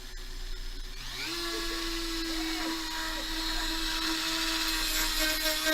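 A power sander fitted with quick-release sanding discs spins up after a moment into a steady, high, whining drone that runs on loudly and continuously.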